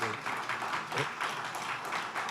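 An audience at a Pasadena District 3 community meeting applauds steadily, a dense wash of clapping from a moderately distant crowd with no talk over it.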